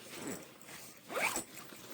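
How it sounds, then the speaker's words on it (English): Center zipper on a backpack with a laptop compartment being pulled open, two short close zipping rasps, the second louder, with no talk. "These center zippers open up to expose your"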